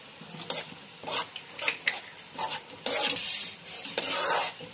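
Veg Manchurian balls in sauce with vinegar and soy sauce are mixed in a pan, a series of close scraping, sizzling strokes in an uneven rhythm, with no talk.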